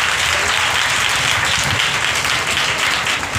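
A church congregation clapping together in praise during a Hindi-language sermon, dense and loud applause filling the room throughout the few seconds.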